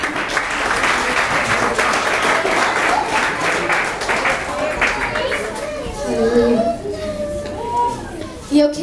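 Applause ringing through a Pentecostal church congregation, dense clapping for several seconds that thins out as children's voices and chatter rise, with a baby crying faintly near the end.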